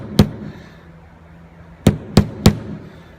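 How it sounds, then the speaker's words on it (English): Sharp metallic taps of a small hammer driving a pin into a pistol frame during a PF9 short stroke kit installation, one strike followed after a pause by three quick close strikes, loud and alone. "we're gonna go ahead and tap that home a little bit till we get it started"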